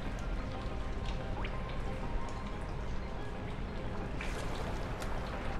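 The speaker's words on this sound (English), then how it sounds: "oh, now I'm in sewer water." Dripping sewer water in the video game I Am Fish, a continuous patter of drops and trickling water with scattered sharper plinks over a dense watery wash.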